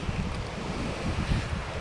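Blustery wind from Hurricane Ian's outer bands in North Port, Florida roars and buffets the microphone in a steady low rumble, with no voices.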